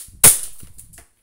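A single sharp shot from an E&C airsoft Glock 19 John Wick Gen 3 pistol, a close, loud crack with a bright snap that quickly fades, followed by faint clicks.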